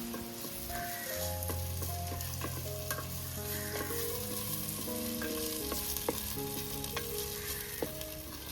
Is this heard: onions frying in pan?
yes